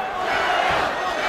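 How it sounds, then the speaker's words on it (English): Crowd at a BAMMA mixed martial arts event roaring in steady, dense support for fighter Hardiman, a loud continuous wash of voices with no break. "you can hear the crowd's response trying to inspire their man"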